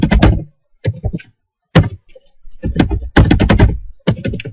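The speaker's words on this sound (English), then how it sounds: "we're just going to type in a password here" Bursts of fast computer-keyboard key taps as a password is typed, with short pauses between clusters of keystrokes, fairly close and crisp.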